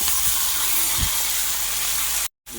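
Sliced onion going into a pan of frying potato mezhukkupuratti, giving a steady, fairly loud sizzle and hiss with a couple of soft knocks, cutting out briefly near the end.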